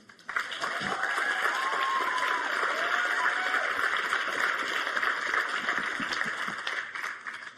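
A studio audience claps and cheers in sustained, dense applause that starts abruptly and holds steady and loud for several seconds before tapering slightly at the end.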